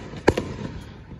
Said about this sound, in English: Oh, okay. Fireworks.